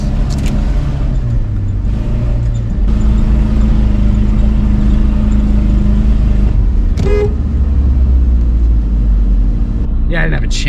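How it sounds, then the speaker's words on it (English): An off-road vehicle in deep sand in Ocala National Forest, Florida, its engine droning loud and steady as the tires spin, with a short honk-like burst near the end and voices briefly over the rumble. "we are just absolutely spinning the tires"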